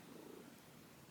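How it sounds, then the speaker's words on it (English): A cat purrs steadily and softly up close on a blanket, a continuous low rumbling hum with no voices over it. "my baby is purring and like needing this blanket right here"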